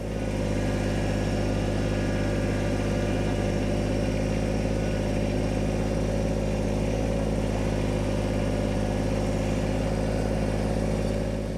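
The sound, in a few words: vehicle driving on snow in two-wheel drive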